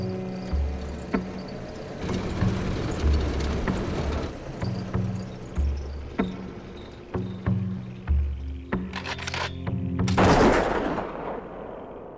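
Farmers shoot wallabies on Kangaroo Island with repeated gunshots. The sharp cracks sound at irregular intervals, some in quick runs, moderately loud against a low rumbling background, with no speech.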